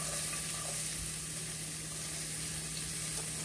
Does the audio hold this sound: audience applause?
no